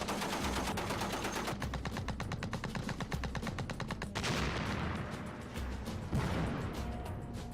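Video game battle tank's machine gun laying down suppressive fire near a bamboo hut, loud rapid bursts of gunfire with echoing crashes and a heavy blast partway through, no talking.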